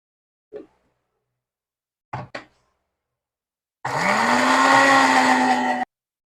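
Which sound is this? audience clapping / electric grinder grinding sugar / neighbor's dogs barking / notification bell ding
electric grinder grinding sugar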